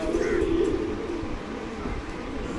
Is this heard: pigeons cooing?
yes